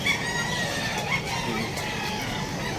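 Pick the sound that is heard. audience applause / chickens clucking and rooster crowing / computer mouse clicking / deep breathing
chickens clucking and rooster crowing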